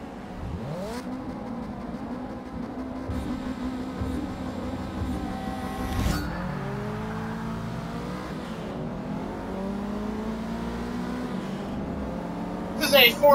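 Race car engines in Forza 6 drone and rise steadily through gear changes over several seconds, revving close and continuous with a brief louder burst near the end.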